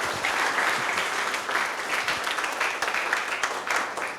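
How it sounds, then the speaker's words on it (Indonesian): Enthusiastic applause from an audience at a university energy talk, a dense, steady roar of many hands clapping that fills the room throughout, with no break. "Tepuk tangan yang meriah."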